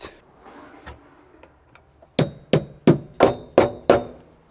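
Torque wrench clicks off as bolts are tightened on the rear end of a BMW E46 M3, six sharp metallic snaps in quick, even succession after a quieter stretch with a few faint taps.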